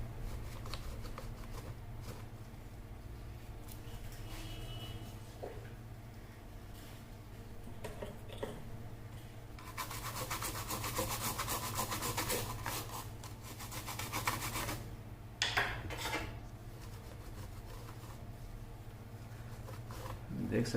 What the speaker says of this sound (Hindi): थोड़ा क्लीन कर लेते हैं इस जगह को